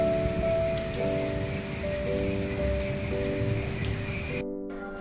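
Steady rain patters on a rainy day as a dense, even hiss at close range, continuing for several seconds before cutting off abruptly near the end, with a faint tonal hum beneath it and no talking.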